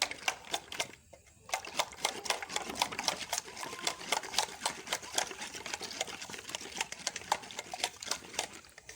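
Two eggs with cumin and salt are beaten by hand in a bowl, giving a fast, steady run of close clicking and tapping strokes after a brief pause near the start.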